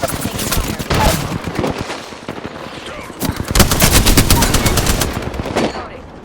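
Gunfire in the Apex Legends video game comes as loud, rapid automatic bursts and rattling volleys that fill the clip, with a short lull midway and no clear talking.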